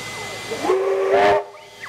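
Steam locomotive 3016, a 30T class engine, gives a loud steam whistle blast with a hiss as it departs for Queanbeyan in New South Wales, then a fainter whistle follows.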